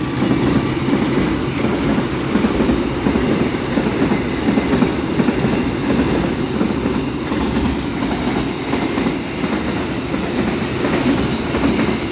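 A freight train rumbles past close by at Ujungnegoro station in the morning, its wheels clattering in a steady rhythm over the rails the whole time.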